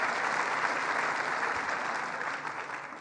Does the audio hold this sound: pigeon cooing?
no